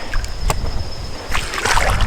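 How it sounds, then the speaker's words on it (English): Footsteps sloshing and splashing through shallow water on a muddy overland trail in South Carolina, a few close wet splashes followed by a denser burst of churning water. "I just splashed myself"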